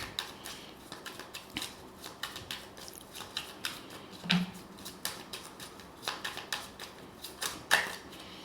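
Tarot cards are shuffled and drawn, producing a long series of soft, rapid riffling clicks and snaps in irregular bursts, quiet and close.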